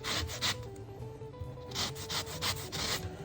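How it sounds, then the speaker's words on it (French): An organic lemon being zested, with repeated short rasping scrapes in bursts of roughly even rhythm, close and moderately quiet, with no talking. "Je prélève le zeste de mon citron."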